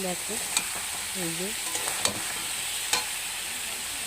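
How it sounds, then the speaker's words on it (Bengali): Green banana and potato sauté in a pan for a prawn curry, a steady close sizzle with occasional stirring clicks and scrapes, while faint bird chirps sound in the background near the start. "দেখো আমার ভালো করে কলা আর আলুটা কষানো হয়ে গেছে"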